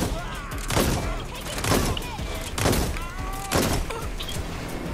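Heavy gunfire from the video game Watch Dogs Legion, with four loud, evenly spaced shots roughly a second apart, each leaving a rumbling tail, over a busy game soundscape with some talk.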